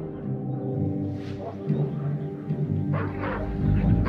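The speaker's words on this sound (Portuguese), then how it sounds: "já se formou uma população de cães ferozes que andam ao redor dos vulcões pequenos e até atacam animais silvestres" Feral dogs bark and yip around small volcanoes near Mexico City, several animals calling in overlapping bursts against a steady background murmur, with occasional whimpering notes.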